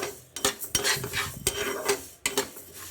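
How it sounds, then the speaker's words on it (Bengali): Mung dal dry-roasting in a pan, with a utensil scraping and stirring the lentils in quick uneven strokes, close and fairly quiet, with short metallic clinks against the pan. "মুগ ডাল কিছুটা ভাজা ছিল আর কিছুটা নিয়ে ভাজছি"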